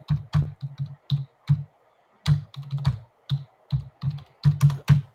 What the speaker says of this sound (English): Hang on. I don't type fast.